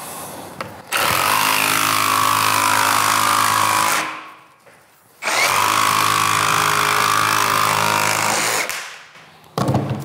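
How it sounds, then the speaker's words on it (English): A jigsaw cuts vinyl plank flooring in two loud sustained bursts separated by a short pause, with a steady buzzing motor tone and rough chattering blade noise. "Okay, jigsaw cuts through it like a hot knife on butter"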